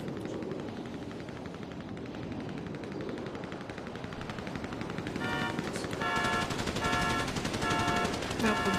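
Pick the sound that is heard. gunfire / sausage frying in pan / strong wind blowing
gunfire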